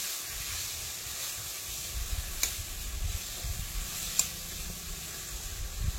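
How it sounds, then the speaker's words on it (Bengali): Chopped tomato dropped into onion, ginger and garlic already frying with spices gives a steady, quiet hissing sizzle with a few sharper crackles, close and alone throughout. "টমেটোটা দিয়ে দিলাম।"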